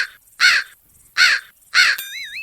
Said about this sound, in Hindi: तभी देखते देखते वहां बैठे सब लोगों के गले से कौवे की आवाज आने लगती है।